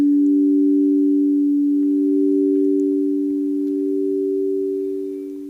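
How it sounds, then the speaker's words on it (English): Crystal singing bowls tuned to 432 Hz hum in one pure, steady sustained tone that rings on evenly and slowly fades toward the end, with no voices. "Perhaps you strongly hear the resonance of these crystal bowls."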